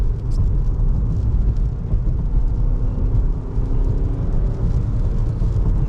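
A new BMW M5 accelerates hard through its gears, a loud, continuous engine roar that holds steady throughout with no talking over it.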